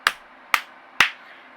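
Three crisp, evenly spaced snaps, two fingers struck against the left palm, each a sharp close-up crack with a quick decay about half a second apart, isolated in quiet.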